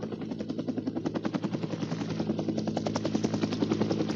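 A helicopter on a 1973 expedition flight from Puerto Ayacucho toward Cerro Autana in Venezuela gives a loud, rapid rhythmic rotor chop over a steady engine drone, growing slightly stronger throughout.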